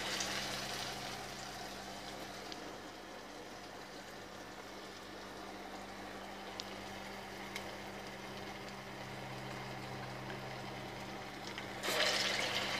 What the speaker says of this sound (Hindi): आपको करना है फ्राई।